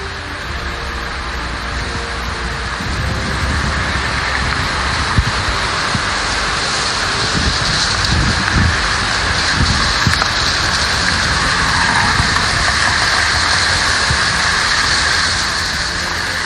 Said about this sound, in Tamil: கோடம்பாக்கத்தில் தற்போது எப்படி மழை பெய்து வருகிறது